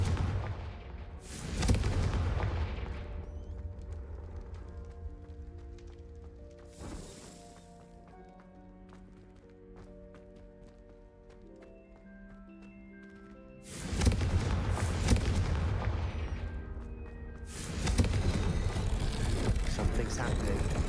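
Confringo blasting curse explosions go off in the Hogwarts Legacy video game. A loud booming blast comes first, then a fainter one, and a tonal musical score plays underneath before two more heavy blasts near the end.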